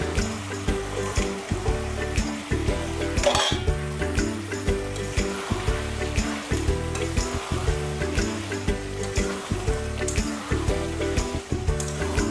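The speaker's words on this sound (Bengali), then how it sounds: "এইভাবে আরো বেশ কিছুক্ষণের জন্য নাড়িয়ে চাড়িয়ে নেব।" Chicken with ash gourd and potatoes sizzles loudly in a pan, with repeated stirring scrapes in a steady rhythm close by and steady music running underneath.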